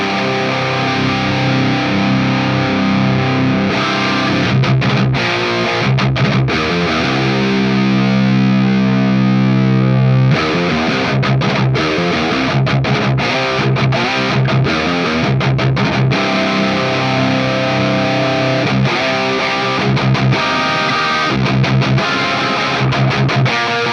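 Distorted electric lead guitar through an Axe-Fx Soldano 100 lead amp model with a Recto Red Bright tone stack, playing sustained chords and riffs with a brief pause midway, loud and continuous with no talk.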